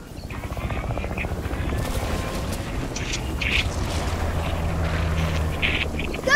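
Loud, steady video game helicopter rotor thumping and engine roar with rushing noise, plus scattered higher clanks and effects layered over it.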